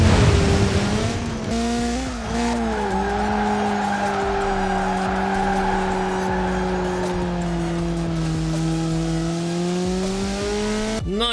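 A Peugeot 207 rally car drives in Forza Horizon 4, its engine a loud, continuous drone that dips and bends in pitch as it shifts and corners, with faint tire noise beneath.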